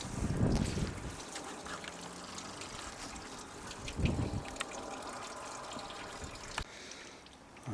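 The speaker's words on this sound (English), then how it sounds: "whatever liquid inside will start running into the bucket" Melted beeswax runs from an upturned hive super box into a bucket while rendering wax, giving sparse drips and trickles with a few dull knocks, fairly quiet and close.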